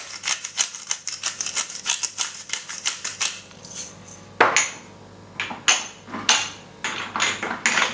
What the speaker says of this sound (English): On the gammon, we're gonna crack some pepper.